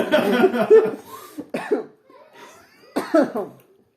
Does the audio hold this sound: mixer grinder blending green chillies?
no